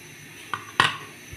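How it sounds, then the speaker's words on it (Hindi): Two quick metallic clanks close by, a light tap then a louder clack, as a pressure cooker lid is set and locked in place. "अब हम प्रेशर कुकर को बंद कर देंगे।"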